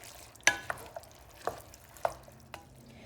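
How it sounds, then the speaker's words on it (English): A spoon stirring black beans and undrained diced tomatoes into chili in a pan, with several distinct scraping clacks against the metal over a soft, quiet background. "I'm going to stir that all in there."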